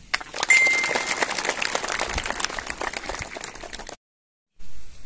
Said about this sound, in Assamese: তোমালোকে এটা হাত চাপৰিৰে তেখেতক আদৰণি জনাবা